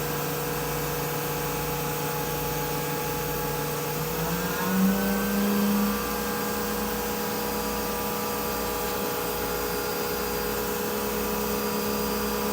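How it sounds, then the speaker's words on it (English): An Anderson CNC router spindle ramps up while cutting a circle, a steady mechanical whir whose pitch rises partway through, then holds at a higher, even whine over a continuous broadband hiss. "So we're just cutting a circle. Ramp the spindle speed up a bit."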